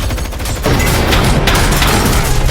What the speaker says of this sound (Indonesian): di mana Jason sudah bersiap sehingga menembak mereka semua